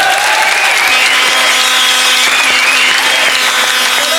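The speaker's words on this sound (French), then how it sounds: "Je propose qu'on l'applaudisse." A television studio audience applauds on a French talk show. The clapping is loud and continuous, with steady tones running underneath that sound like music.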